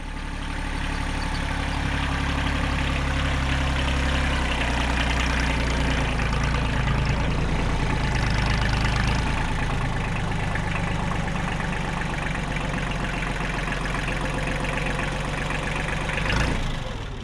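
A Kubota L2350 tractor's diesel engine idles steadily nearby, a continuous low rumbling drone that stays even throughout.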